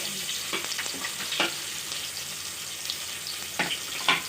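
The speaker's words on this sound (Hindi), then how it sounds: "इसी के साथ जाएगा ये प्याज।" Onion and garam masala frying in hot oil give a steady close sizzle, with a few sharp spatula scrapes and stirs scattered across it.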